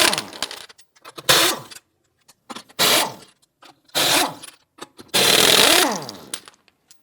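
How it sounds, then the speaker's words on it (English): Lug nuts on a 1997-2006 Jeep Wrangler are loosened with a 19mm socket, heard as four or five separate whirring power-tool bursts with short quiet gaps between them, close and fairly loud. "Using a 19mm socket, loosen and remove the lug nuts."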